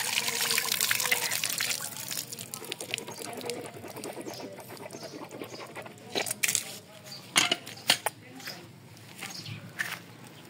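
Water gushes and splashes from a hand pump in an outdoor morning setting, with birds and pigeons cooing nearby, intermittent splashy bursts and people talking around it.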